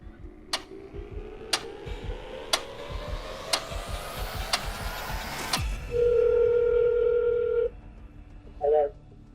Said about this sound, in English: should he make a phone call to them and so we can hear it, record it?